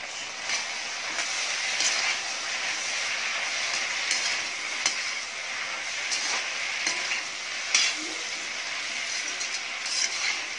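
Okra frying in a pan with turmeric, a continuous sizzle and crackle with occasional stirring scrapes and clicks, close and moderately loud, no speech.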